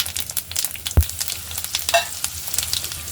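Chilies and asafoetida sizzle in hot oil for a vegetarian potato and pea curry. Crackles and small pops come in uneven bursts, with a sharp knock near the start.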